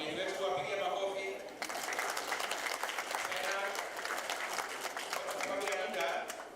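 Audience at a Kenyan polio campaign launch clapping for guests, a busy spread of many hands that swells after a short opening and continues steadily, with voices heard mixed in.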